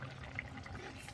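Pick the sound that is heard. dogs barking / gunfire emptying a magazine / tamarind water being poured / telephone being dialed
tamarind water being poured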